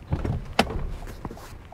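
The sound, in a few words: Toyota Highlander rear door being opened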